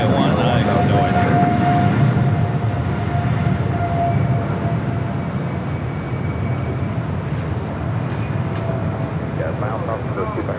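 At LAX airport an airplane on final approach makes a steady, broad jet rumble that fades slightly over time, while a voice talks over it.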